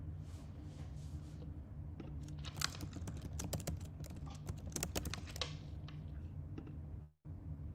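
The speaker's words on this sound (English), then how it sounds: "I'm finishing typing this agreement right now" Someone types steadily on a computer keyboard, with soft, close clicks in irregular bursts and short pauses against a quiet room hum.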